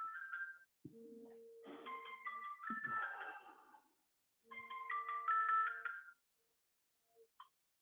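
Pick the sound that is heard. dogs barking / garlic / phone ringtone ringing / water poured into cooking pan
phone ringtone ringing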